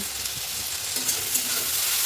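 Leafy greens (shak) frying in a pan over a home stove, a steady, even hiss of sizzling oil with faint stirring, heard alone and without talk.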